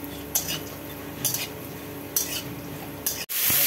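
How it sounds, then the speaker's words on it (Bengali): Small bori lentil dumplings fry in hot oil, giving a steady sizzle with periodic scraping and stirring strokes of a utensil against the pan, then a brief pause before a louder burst of sizzling. "এবারে বড়িগুলো একটু ভালো করে ভেজে নেওয়া হচ্ছে"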